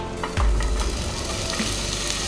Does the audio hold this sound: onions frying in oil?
yes